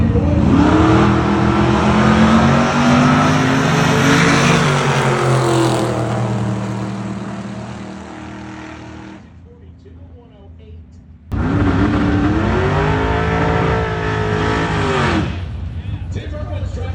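A supercharged Corvette and a Studebaker race car at a drag racing event, engines roaring loud and close, dropping away and then surging back up at full throttle.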